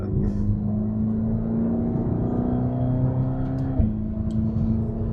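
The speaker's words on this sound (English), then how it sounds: "Boy, the exhaust is hilarious." A 720 hp Mercedes-AMG GT Black Series engine drones loudly and steadily from inside the cabin, windows up, holding a deep rumbling exhaust note before shifting pitch briefly near the end.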